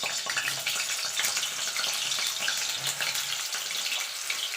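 Potato chunks frying with chicken kosha in a pan, a dense, even hiss and crackle of oil that runs continuously at close range with no voices.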